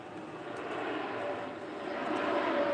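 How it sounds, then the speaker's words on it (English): Passenger airplane passing overhead near a front porch, a steady broad engine roar that swells slightly louder toward the end, heard alone. "Plane! Plane! We're under attack! We're under attack! By passenger planes."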